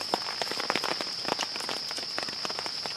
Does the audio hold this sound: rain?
yes